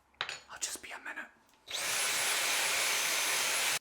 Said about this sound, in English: Yes, I did just use a bloody hoover on my chopping board